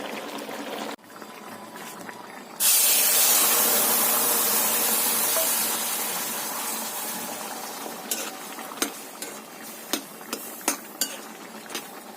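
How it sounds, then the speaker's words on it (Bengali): Mustard seeds drop into hot oil for tempering and set off a sudden loud hiss that slowly fades into a crackle, with sharp pops and clinks of a spoon near the end. "একটুখানি সর্ষে দিয়ে তেল দিয়ে ফোড়ন দিয়ে দেবো"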